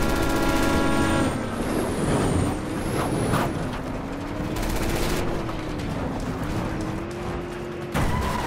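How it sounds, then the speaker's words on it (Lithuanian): A train arrives in the video game Resident Evil 6, a loud mechanical rumble with a rising and falling whine, mixed with sharp game effects and cut off by abrupt shifts in the sound. "Kapitone, atvažiuoja traukinys."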